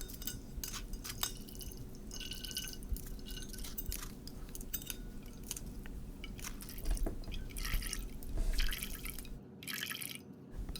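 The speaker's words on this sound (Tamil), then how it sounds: "இப்போது இந்த எண்ணெயை நல்லா வடிகட்டி ஒரு பாட்டிலில் போட்டு வச்சிடலாம்" Strained green herbal hair oil dripping steadily into a container, a soft continuous trickle of liquid heard alone and close.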